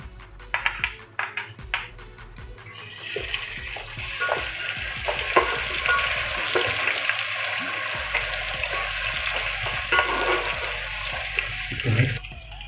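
Onions browned in oil, with ginger-garlic paste stirred in, sizzle continuously while a spoon clinks and scrapes the pot in irregular knocks; no voices are heard.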